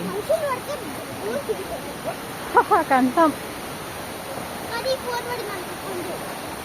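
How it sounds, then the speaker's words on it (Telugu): Steady rushing water running between small stones near Dudhsagar waterfalls in Goa fills the background while a person speaks over it in short bursts. "చిన్న చిన్న రాళ్ళు మధ్య మధ్యలోంచి వాటర్ వెళ్తూ ఉంటాయి"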